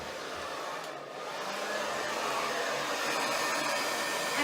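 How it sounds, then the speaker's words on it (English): A handheld hair blow dryer runs continuously close up, a steady broadband whoosh with a slight dip at the start, then holding level with no talking. "I do think it's important to have a blow dryer that you keep on a medium setting"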